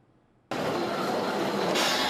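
The Alishan Forest Railway train in Taiwan's mountain forests, a century-old line built for hauling lumber, rumbles past loudly after near silence, a sudden broad continuous roar of wheels and cars close by.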